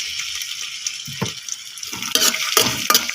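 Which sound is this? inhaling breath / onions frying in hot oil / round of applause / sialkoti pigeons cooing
onions frying in hot oil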